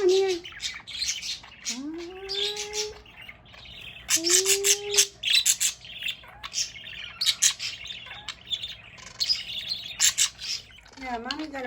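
A pet budgie parakeet indoors lets out several rising, whistling chirps and scratchy squawks, close and fairly loud, mixed with bursts of chatter and someone talking to it.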